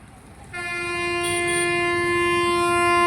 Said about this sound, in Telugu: గుంటూరు రైల్వే స్టేషన్లో శబరి ఎక్స్ప్రెస్ బయలుదేరుతుంది